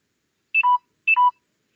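Two short two-tone electronic beeps from a phone, clean and evenly spaced against silence.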